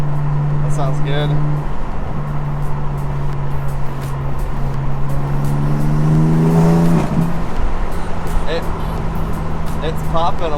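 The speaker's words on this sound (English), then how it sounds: "It's popping a little bit more too. Popping out the back of the exhaust." A BMW M4 with catless downpipes and a VRSF intake idles loudly, rises in one rev around the middle, and lets out short crackling pops from the exhaust, close to the listener.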